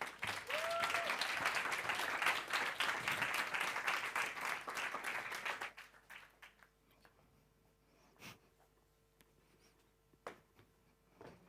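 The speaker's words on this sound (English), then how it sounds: "Can we please have a round of applause for Maya?" A theatre audience gives a speaker a loud round of applause: dense clapping for about six seconds, then it quickly dies away into a quiet hall with a few faint stray sounds.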